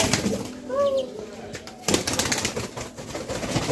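A pair of Dutch Jacobin pigeons coo in short gliding calls, followed by bursts of flapping wings nearby against a soft background hum.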